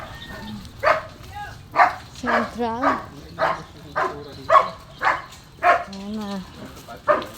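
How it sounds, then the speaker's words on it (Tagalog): A dog barks several times nearby while people talk over and between the barks, with distinct yelps and whimpering tones mixed into the steady, rhythmic outbursts. "Oh, may aso."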